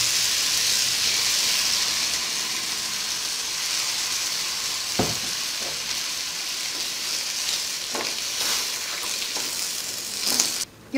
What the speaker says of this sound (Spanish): Cuando la carne está a punto de freírse, le vamos a poner la salsa que licuamos.